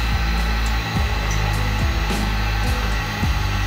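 A heat gun or hot-air blower roars steadily and loudly while heating a printed logo on a plastic sports bottle, with a low rhythmic hum pulsing underneath throughout.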